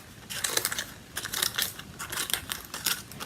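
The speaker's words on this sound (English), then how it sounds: "I'm going to just simply cut into my cupcake holder" Scissors snipping into a paper cupcake holder, a run of short crisp cuts in quick bursts, close and fairly quiet with no talking.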